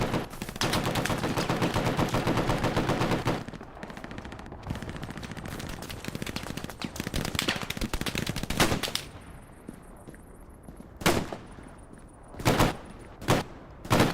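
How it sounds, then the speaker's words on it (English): Gunfights and explosions on a front line in the Hell Let Loose video game: loud dense bursts of automatic gunfire blur into a continuous roar, then separate sharp rifle shots and bangs crack out more sparsely. A high electronic beep sounds faintly between them. "you're probably talking about the gunfights and explosions out on the front line"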